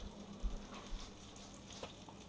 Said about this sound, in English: once you get the butter good and hot there, it's nice and sizzling